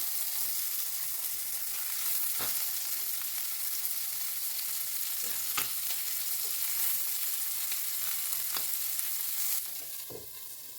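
Liver fritters frying in a pan of hot oil, a steady close hiss of sizzling with occasional pops and crackles, easing slightly near the end.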